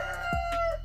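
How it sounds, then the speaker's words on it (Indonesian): A rooster crows once, a steady drawn-out call that lasts nearly a second, fairly close with no voices around it. "Nah, itu ayam, guys."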